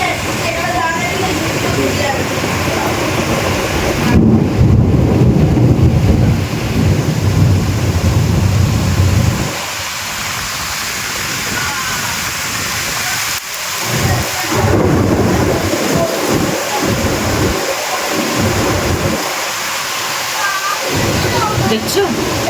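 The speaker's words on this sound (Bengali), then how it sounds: "দেখছো জোরে ঝড় বৃষ্টি নেমেছে" A heavy thunderstorm roars with pouring rain and strong wind gusting close and loud, a dense rush that eases in places toward the end, with no voices.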